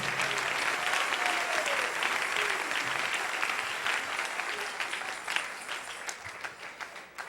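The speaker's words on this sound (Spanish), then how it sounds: "Denle un aplauso al Rey en esta hermosa mañana" Congregation applauding during a Spanish-language church service, broad sustained clapping at moderate distance that gradually thins and becomes more scattered toward the end.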